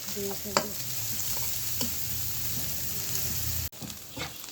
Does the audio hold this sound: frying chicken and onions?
yes